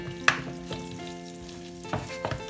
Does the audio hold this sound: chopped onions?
yes